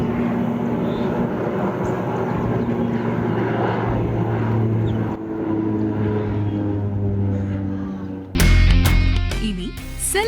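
A low-flying propeller airplane passes over Trichy with a steady, loud engine drone that dips briefly midway, then a sudden louder burst of sound near the end.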